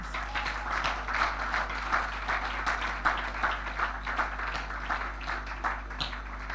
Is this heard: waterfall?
no